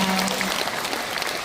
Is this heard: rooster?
no